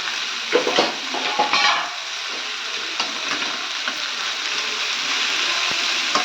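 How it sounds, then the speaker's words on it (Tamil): Ridge gourd pieces sautéed in a pan for a poriyal, a steady hissing sizzle with a few stirring scrapes early on, with no talking. "இதில் காய் போட்டு வதக்கலாம்."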